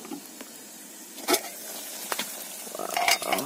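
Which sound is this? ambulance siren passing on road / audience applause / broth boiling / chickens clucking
broth boiling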